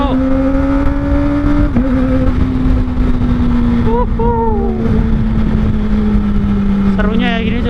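A Kawasaki ZX-25R motorcycle with an R9 exhaust ridden hard, its loud high-pitched engine note holding steady, then rising through quick revs and gear changes up close.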